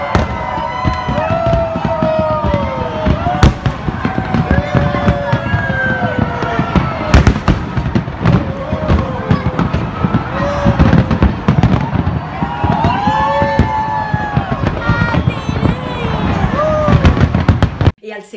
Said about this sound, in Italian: Dalle chiatte al largo sul mare partono questi fuochi d'artificio creando lo spettacolo pirotecnico tra i più suggestivi al mondo